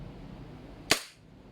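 A single sharp shot from a KJ Works Beretta M9 full-metal airsoft gas blowback pistol cracks loudly and close, followed by a short fading hiss of gas over a quiet indoor background.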